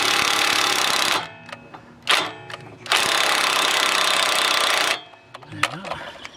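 A power drill hammers at rusted rear suspension parts on an Alfa Romeo GT, 147 or 156, in loud rattling bursts: one long, a short stab, then a sustained two-second run, with quieter workshop clatter between.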